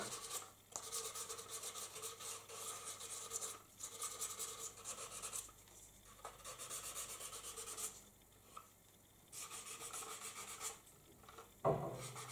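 Quiet, rhythmic rasping strokes of sandpaper rubbing back and forth on a plastic model aircraft part, with short pauses between bursts, close and soft, ending in a small knock.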